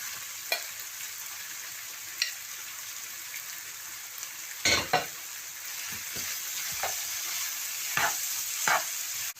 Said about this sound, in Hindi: अब हम इसमें चिकन डाल देंगे जो कि हमने फ्राई की है।